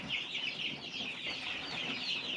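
Young chicks peep and cheep in a continuous high chorus, with a few soft clucks from a hen mixed in, close and fairly quiet with no voices.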